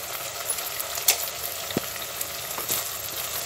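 Mutton and onion fry in a pan for mutton chuka, giving a steady close sizzle with occasional light clinks and stirring scrapes, and no voices over it.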